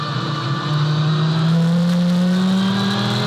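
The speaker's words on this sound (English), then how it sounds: "You can hear something rattling, some sort of vibration for Greg Crick" A GT race car at Sydney Motorsport Park drones past under power, with a steady engine tone and a buzzing rattle or vibration layered over it.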